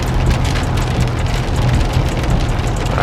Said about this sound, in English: I hate when it rains like this sometimes.